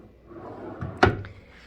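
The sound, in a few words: hotel room drawer opening or closing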